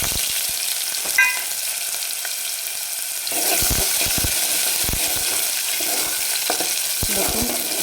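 Garlic and onion fried in a pan, a quiet sizzle that grows louder midway as stirring starts, with scraping strokes and knocks close by and no voices.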